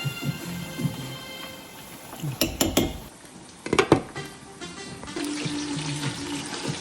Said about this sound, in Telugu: రైస్ వేసేసాం కదా, ఒకసారి కలపాలి కొంచెం ఇలా.